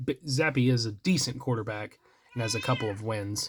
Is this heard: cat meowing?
yes